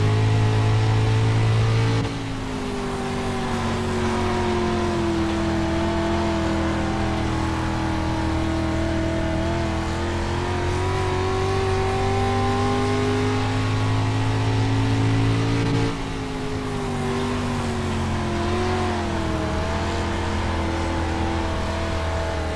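A dirt-track race car engine in the iRacing simulator holds a steady, loud drone with harmonic pitch rising and falling as it slides through corners, a brief lift near the middle before the revs climb again.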